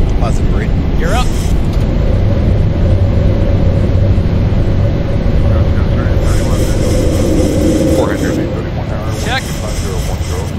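An airliner climbing out after takeoff from LaGuardia in the X-Plane 12 flight simulator gives a steady, loud engine roar and rumble throughout, heard beneath almost continuous pilot talk.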